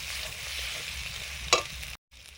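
Fish curry spices for pabda fish, turmeric and chilli powder, frying in a pan with a steady soft sizzle, one sharp scrape of stirring near the end, then a brief cut.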